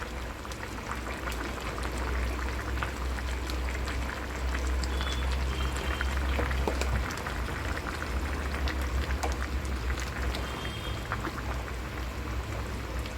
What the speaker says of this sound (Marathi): ह्याला आणखीन परत एक उकळी येऊ द्यायची